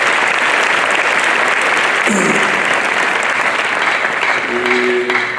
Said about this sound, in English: Can we give them a nod and take a round of applause?